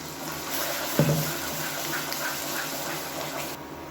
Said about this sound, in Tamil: இப்போ மிக்சியிலேருந்து கொஞ்சமாக அலசிட்டு அப்படியே சேர்த்துக்கிறேன்.